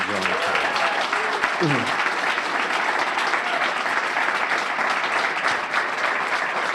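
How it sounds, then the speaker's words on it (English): A luncheon audience applauds school principals: a loud, dense, sustained round of clapping fills the whole stretch, with a brief spoken phrase at the start under the applause. "we gave a big round of applause to all of the principals"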